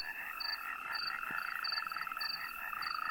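Natterjack toads calling in a steady, overlapping chorus, with continuous rattling croaks and repeated higher chirping notes, fairly close and loud with no talk.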